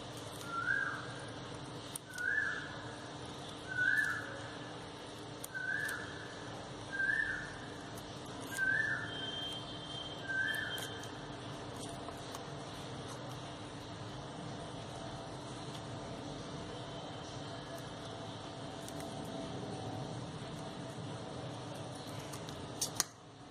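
Scissors snip paper sepal triangles for a handmade desert rose paper flower, about seven crisp, evenly spaced cuts close by, followed by a quieter stretch of faint room noise.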